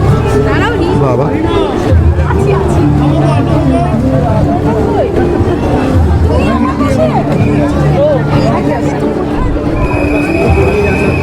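A large festival crowd murmurs and chatters continuously around a Jagadhatri Puja pandal in Chandannagar, a loud, dense babble with no pauses and a faint tonal hum near the end.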